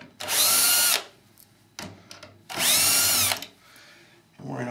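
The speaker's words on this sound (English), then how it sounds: "Using a screw gun, we're just going to take these out," A screw gun backs screws out of patio door rollers in two loud, close bursts of high-pitched whirring, each about a second long, with quiet handling clicks and a short start of a third burst between them.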